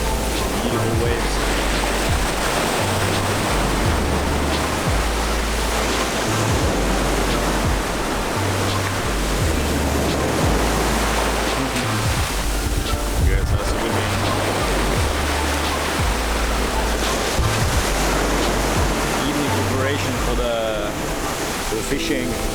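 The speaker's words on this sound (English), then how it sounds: "Beautiful waves." Ocean waves wash onto Dahican beach in Mati, Mindanao, on a cloudy, breezy day, a steady loud broadband roar of surf with low rumbling swells throughout and no voices.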